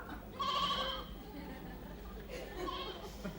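Sheep returning from pasture bleat twice in faint, wavering cries, the first a bit louder, over a low murmuring background.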